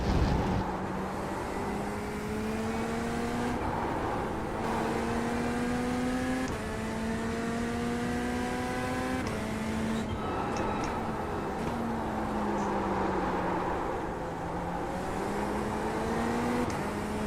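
A Corvette race car engine in the iRacing simulator, run on a medium downforce setup, loud and steady with rising gear pulls and quick shifts, sustained close whine from start to finish.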